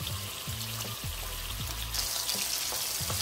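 Pork steaks sizzle in a pan, a steady bright hiss with soft crackles that holds at an even level throughout.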